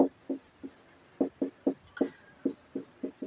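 Pen or pencil writing on paper during a class 10 maths lesson, a series of short scratchy strokes in an uneven rhythm, close and clear with no talking over them.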